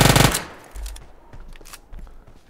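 Gunfire in PUBG Mobile: a rapid automatic burst at the start, then scattered fainter single shots and distant pops over the next couple of seconds.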